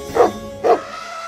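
A dog barks twice in quick succession, two short, sharp, fairly close barks about half a second apart, with no other sound around them.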